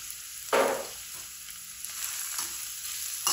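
Chopped onions and cumin frying in a pan of oil for a turnip dish, a continuous hissing sizzle with a sharp louder burst early on and faint stirring scrapes, no one talking.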